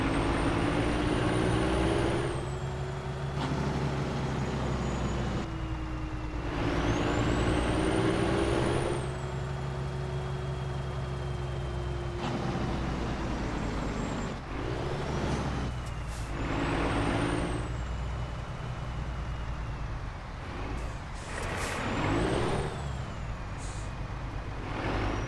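A Freightliner FLB truck in a truck simulator video game idles with a steady diesel rumble, repeatedly braking with loud air-brake hisses and pulling away as the engine revs rise and fall over about 25 seconds.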